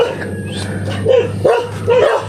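An angry dog barks close and loud in a rapid burst of several sharp barks, with a few higher yips mixed in.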